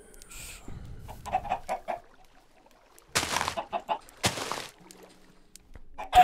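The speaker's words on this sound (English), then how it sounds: "Kill the chickens." Chickens in the video game Minecraft cluck in several loud bursts, some closely spaced, separated by brief quiet gaps.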